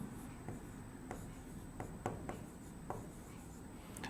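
A chemical name is written out by hand during a chemistry lesson, giving soft, faint scratching pen strokes in short bursts with small ticks between them, over a quiet background.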